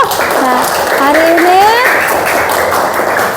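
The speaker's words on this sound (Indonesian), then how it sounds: "mana tepuk tangannya dulu?" Classroom students clap together in a steady burst of applause, with children's voices rising in calls and squeals over the clapping.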